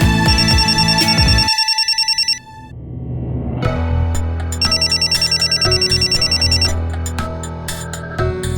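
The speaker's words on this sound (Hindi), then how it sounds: "किसका फोन आया है?" Phone ringing with an electronic ringtone, a bright repeating tonal pattern that pauses briefly and then resumes, loud and close with no talking over it.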